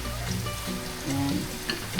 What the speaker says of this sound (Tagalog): Kaya kumukulo na yung ating water.